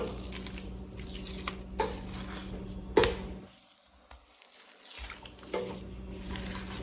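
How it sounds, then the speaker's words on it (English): Melted butter being stirred into mashed potatoes, giving soft squishing and scraping sounds with occasional sharper knocks of the utensil against the bowl and a brief quiet pause. "We're gonna get this in, stir this in really well."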